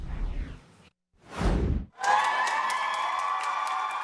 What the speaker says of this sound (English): Hundreds in overflow seating cheer when the vote becomes final